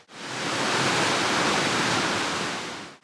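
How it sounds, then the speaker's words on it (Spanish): A 60-metre spring-fed waterfall, Salto de la Novia near Navajas in Castellón, Spain, roars as a steady, broad wash of falling water, loud and constant from start to end with no voices. "mirad la cascada que hay, son 60 metros de cascada que procede el agua de un manantial"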